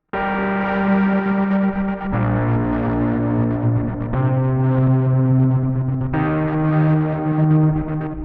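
Two layered electric guitars processed through Soundtoys effects into synth-like sounds sustain dense chords, shifting every two seconds or so, thick with chorus and echo, steady and loud, no voices.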